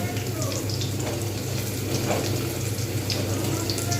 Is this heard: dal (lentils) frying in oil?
yes